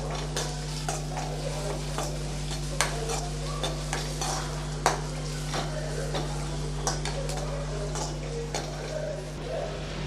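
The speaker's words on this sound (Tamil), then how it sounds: "கொஞ்சம் வதக்கி விட்டுறலாம்." Tomato rasam spice paste sautéing in oil in a pan, with a steady low sizzle under repeated light stirring clicks and scrapes of a spoon against the pot, close and fairly quiet.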